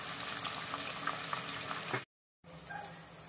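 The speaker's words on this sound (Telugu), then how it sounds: "చూడండి, చేపలు చక్కగా కలర్ మారి పర్ఫెక్ట్గా ఫ్రై అయ్యాయి" Dried fish frying in hot oil for a gongura curry, giving a steady, close sizzle and bubbling that stops abruptly for a moment and then resumes more faintly.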